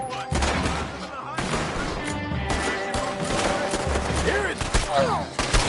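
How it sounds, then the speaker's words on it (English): Guns fire in a Red Dead game scene as a busy, close fusillade of sharp overlapping shots and thuds, with brief voices speaking among the gunfire. "What are those guns they have?"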